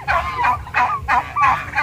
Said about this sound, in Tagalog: Pasisilip ko lang sa inyo yung mga pabo na bagong pakawala.